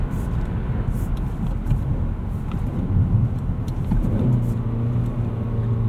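A 2024 Mazda3 2.5 S Premium with a manual gearbox drives along, its engine a low steady drone inside the cabin, pitch sagging and rising as revs fall between gear changes, with road noise underneath.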